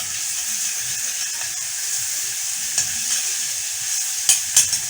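Eggplant slices for moussaka frying in hot oil make a steady, close sizzle with a few sharper pops near the end, and no one speaks.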